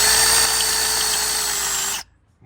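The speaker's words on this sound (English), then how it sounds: "we're drilling it out" A power drill bores out a stripped head bolt on a Toyota engine, giving a loud, steady high-pitched whir for about two seconds before it stops abruptly.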